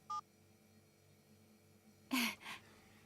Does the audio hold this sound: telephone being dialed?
yes